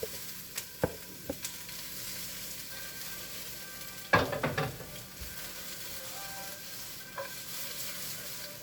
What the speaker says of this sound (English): I'm going to add a couple more onions in there.